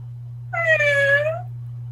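A voice imitating a cat's meow for a character in the Mystic Messenger game, one clear drawn-out meow over a steady low hum.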